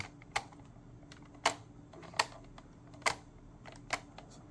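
A 2011-2014 Chrysler 300's turn signal stalk is flicked back and forth, making five crisp, quiet clicks at an unhurried, fairly even pace against near silence.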